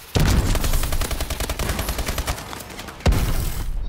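Loud, close gunfire in a first-person shooter, a sharp onset then a rapid stream of automatic shots that thins out, followed by a second burst near the end.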